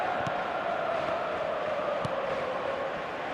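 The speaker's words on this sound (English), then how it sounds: "the crowd are reacting to that now" Stadium crowd in the eFootball video game, a continuous, even roar of spectators at moderate level with no individual voices standing out.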